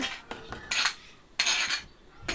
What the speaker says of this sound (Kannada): ಚೆನ್ನಾಗಿ ಮಿಕ್ಸ್ ಮಾಡಿ ಚೆನ್ನಾಗಿ ಕುಟ್ಬೇಕು ನೋಡ್ರಿ ಈಗ